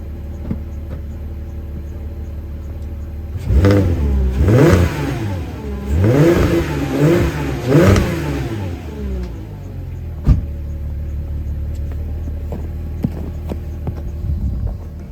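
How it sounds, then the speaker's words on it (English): A first-generation Porsche Cayenne engine with stock exhaust idles low and steady, then revs up in a quick series of throaty surges before settling back to a rumbling idle, close by. "I'm going to show you what the stock exhaust sounds like"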